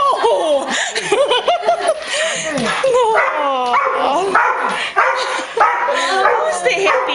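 A dog yips, whines and barks excitedly as a soldier comes home, high squeaky bursts overlapping with happy laughter and people talking close by.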